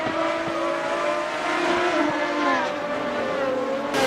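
A Lamborghini engine in the Assetto Corsa racing game, a loud sustained high-pitched roar with steady harmonic whine shifting as revs rise and fall, passing near.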